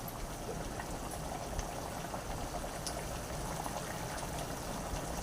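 Uggani mixture with jaggery and turmeric bubbling in a pot on the stove, a quiet, steady simmer of small bursting bubbles throughout, without any talking.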